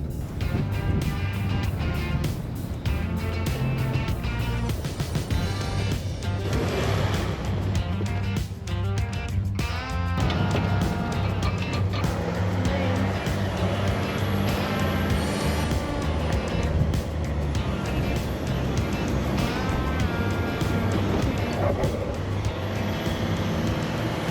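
A vehicle rumbles and rattles along a bumpy, sandy outback track between Wave Rock and Hopetoun in Western Australia, with steady engine drone and jolting body noise throughout, no talk.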